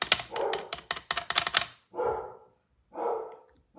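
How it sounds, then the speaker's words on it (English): A pet dog barks at home during a card-making craft class, a quick volley of about eight sharp barks followed by two slower, deeper woofs, moderately close with no talk over it. "It must mean that the UPS guy is here, because it's the only time she barks."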